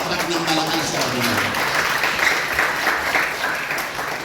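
A church congregation claps loudly and continuously at a worship service, a steady, dense wash of applause filling the space with no clear break.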